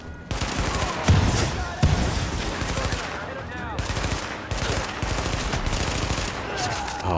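Rapid automatic gunfire in The Division, loud bursts rattling almost continuously with short gaps between volleys, all close and dense.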